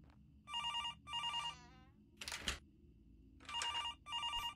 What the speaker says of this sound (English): Ooh, phone call.